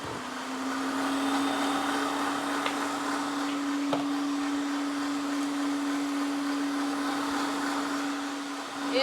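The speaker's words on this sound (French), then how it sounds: "je peux augmenter la vitesse du batteur pour que ça monte bien" A stand mixer whisk beats meringue for a lemon tart at high speed, giving a steady, loud motor whine that holds unbroken throughout, with a few faint clicks and no talking.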